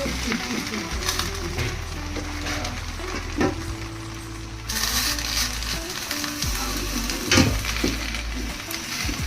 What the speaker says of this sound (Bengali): এক পাশ ভাজা হয়ে গেলে আর এক পাশও উল্টে দিয়ে কলার পাতা দিয়ে ভেজে নিতে হবে।